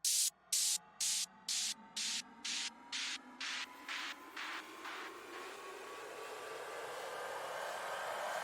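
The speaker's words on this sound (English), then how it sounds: "anytime I have a riser or a sweep in a song" A rising noise sweep builds over several seconds, opening with rhythmic gated bursts that fade into a smooth whooshing swell, with no deep bass underneath.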